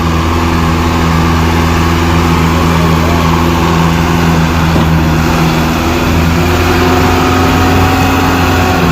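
Tractor engine running continuously at a steady, loud drone with a deep harmonic hum and no pauses, close up, as if it is working hard.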